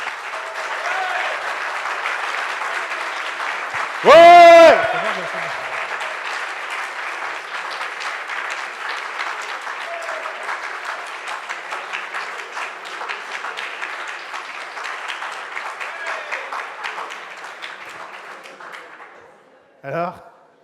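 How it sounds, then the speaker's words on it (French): Loud sustained audience applause at a French entrepreneurship awards ceremony, with a shout of cheering early on and brief voices near the end as the clapping fades out. "je vous demande de l'applaudir bien fort."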